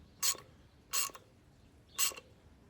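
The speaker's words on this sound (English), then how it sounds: "I just need to grab my little ratchet here and tighten this stud down." Three separate clicking bursts from a small hand ratchet tightening a stud on a Case 730 Comfort King tractor, evenly spaced about a second apart, close and crisp against a quiet background.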